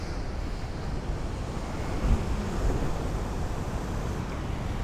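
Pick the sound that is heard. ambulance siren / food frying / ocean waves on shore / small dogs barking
ocean waves on shore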